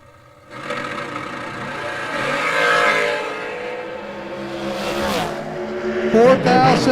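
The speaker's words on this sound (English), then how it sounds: "that beautiful 63 Corvette" A 1963 Chevrolet Corvette drag racing, its engine revving loud and rising with a sharp burst of higher revs near the end, heard under a commentator's voice.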